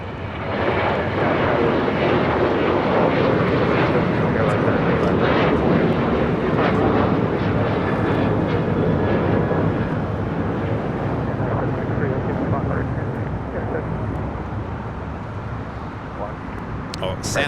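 Steady, loud roar of airliner jet engines at LAX, with a broad rumbling wash that holds for the whole stretch as a Boeing 787-9 Dreamliner taxis while A380s prepare for takeoff, with faint talk underneath.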